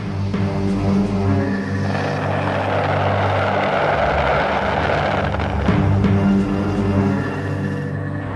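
An AH-1G Cobra attack helicopter flies with a continuous rotor and engine drone that stays loud and steady, swelling slightly in the middle, with no voices over it.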